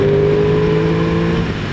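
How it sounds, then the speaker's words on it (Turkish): Aprilia Tuono 660 sport motorcycle engine and exhaust running close by, a loud, steady, throaty drone with a slight drop in level near the end. "Egzoz sesi de keza"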